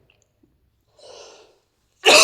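A single short cough, fairly faint, followed by a louder, abrupt burst of breath or a second cough at the end; no talking.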